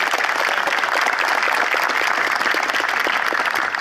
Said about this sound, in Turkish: Sayın Ali Ekber Yıldırım'ı alkışlarınızla kürsüye davet ediyorum.